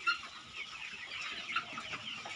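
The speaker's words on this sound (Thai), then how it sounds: "อันนี้เป็นไก่รุ่นไก่สาว" Young laying hens, pullets, clucking together in a flock, a busy, continuous chatter of soft clucks and calls with a few louder peaks, close by and with no talk.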